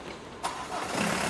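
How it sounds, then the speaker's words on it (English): A car engine being started during a UK MOT vehicle inspection: a sudden cranking burst, then the engine catches and settles into a steady idle, close and moderately loud. "it's out of gear, and start your engine, yeah?"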